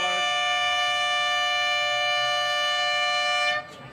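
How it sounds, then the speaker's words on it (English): A quarter-time siren at an Australian football match blares as one long sustained tonal blast, loud and steady for over three seconds before cutting off abruptly, with no commentary over it. "the siren sounds, the umpire eventually acknowledges it"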